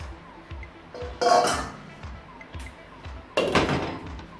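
Two metallic clanks a couple of seconds apart, a lid set down onto a pot of beef curry cooking in water, over a low background hum.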